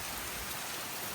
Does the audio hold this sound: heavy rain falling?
yes